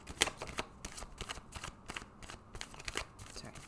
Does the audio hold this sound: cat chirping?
no